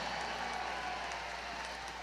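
Rodeo crowd applauding the young Mutton Busters at the Rodeo Austin playoffs, a steady, dense wash of clapping held at an even level for the whole stretch, with no voices standing out.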